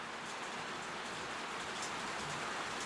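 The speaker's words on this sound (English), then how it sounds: "Oh my god, this rain." Heavy rain pours steadily outside near open windows, a dense, even hiss that fills the whole stretch without pause, fairly quiet overall and with no talking.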